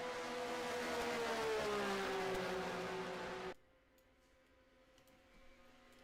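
Race car engines in a sim racing video game of Le Mans midgets: a loud sustained engine drone with pitch falling as it passes, then cutting abruptly to a quieter distant hum.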